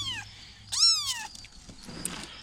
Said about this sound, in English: Hi, kitties.